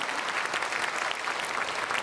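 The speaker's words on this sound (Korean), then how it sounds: "우리 크게 박수로 환영하겠습니다" A congregation at a Sunday worship service at Myungsung Church claps in welcome, producing a brief, loud and even burst of many hands that continues throughout without speech.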